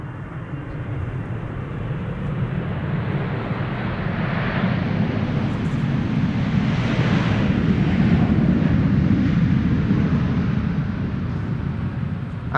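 A KLM Boeing 777-300ER in SkyTeam livery arrives at Amsterdam Schiphol on a showery winter day, its jet engines producing a loud, continuous roar that swells slightly as the aircraft passes close by.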